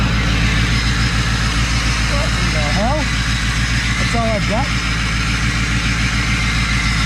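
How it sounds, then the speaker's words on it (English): A car engine with major exhaust problems idles with a steady, loud, low rumble throughout while someone talks briefly over it. "I'm having some major problems with my exhaust here."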